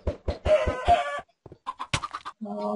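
A blocky farm chicken in a Minecraft game clucks in quick bursts, a string of sharp pecking clucks followed by a few louder squawks, close and clear with no talking over it.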